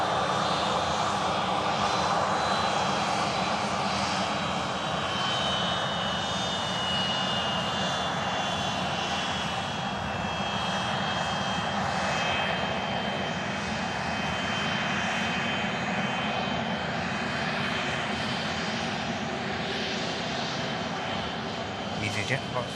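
Steady roar of an easyJet passenger jet engine passing by, loud and continuous throughout with a slowly shifting whine, while a person talks over it.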